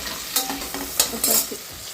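Onions for egg biryani fry in a pan with a steady sizzle, broken by several brief scraping stirs of a spoon against the metal, close and moderately loud.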